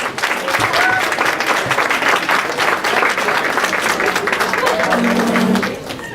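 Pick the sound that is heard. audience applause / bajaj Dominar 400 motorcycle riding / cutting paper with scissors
audience applause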